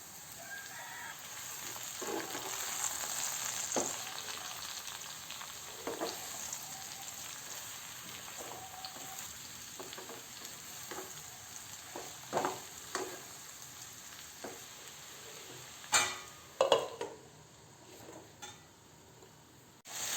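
Milk mushrooms sizzle softly in a pan while being stirred for a mushroom kuruma, a low steady frying hiss with scattered scraping knocks from the utensil that grow more frequent near the end.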